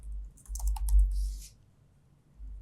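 A short burst of typing on a computer keyboard with rapid, quiet key clicks lasting about a second, heard up close in a quiet room.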